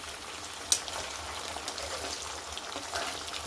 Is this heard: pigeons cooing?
no